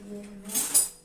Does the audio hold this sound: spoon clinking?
yes